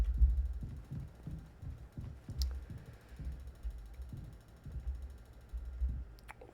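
Heartbeat in the Mouthwashing video game: a steady run of soft, low thumps repeating about every half second, close and muffled, with a faint mechanical undertone and no voices.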